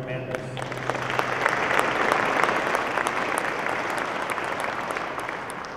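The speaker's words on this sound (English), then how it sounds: "Please join me in a round of applause for our outgoing and incoming 366 Operations Group" Sustained applause from a seated audience at a military honorary commander change of command ceremony, swelling within the first two seconds and then holding steady at full strength.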